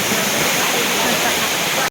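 Pradhan Pat waterfall at Deogarh roaring nearby, a dense, steady rush of falling water that fills the whole stretch without break, loud and close.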